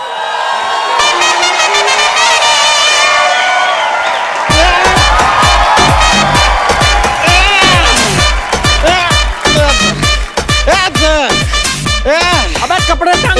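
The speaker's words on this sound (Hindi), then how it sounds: "जोरदार तालियां नरगिस के लिए" A studio comedy-show audience erupts in loud, sustained cheering and whooping for the actress Nargis, backed by a rhythmic drumbeat and music that swell in, the crowd noise dense and close throughout.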